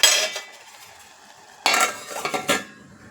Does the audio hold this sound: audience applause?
no